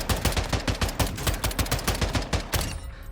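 Rapid automatic fire from an F-Tac Ripper in Warzone, a steady stream of loud, evenly spaced sharp cracks running for about three seconds before cutting off.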